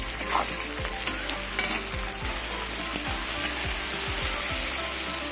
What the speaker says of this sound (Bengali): পেঁয়াজটা এখন ভাজা হয়নি আরো ভাজা